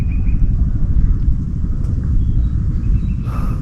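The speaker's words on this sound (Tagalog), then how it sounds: "Rinig po yung ugong ng ng kidlat." A deep, steady low rumble rolls on throughout, like distant thunder, with a brief brighter hiss near the end.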